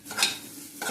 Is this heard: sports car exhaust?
no